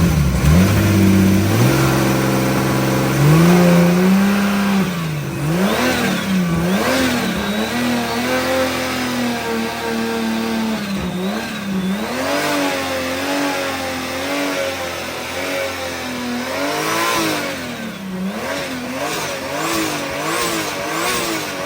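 Toyota JZ engine in a drift car running close and loud, with repeated revs rising and falling over a steady idle, right after an alternator relocation.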